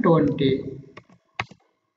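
A few sharp, separate key taps on a computer keyboard follow a short stretch of speech, while entering a value in AutoCAD.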